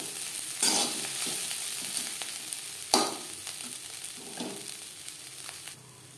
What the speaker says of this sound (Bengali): নারকেলের সাথে কাঁকরোল বেশ ভালো করে ভেজে নেওয়ার পর